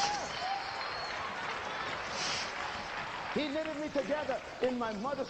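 A church congregation applauds during a sermon in a steady, fairly quiet burst of clapping, and then a voice speaks over the fading noise.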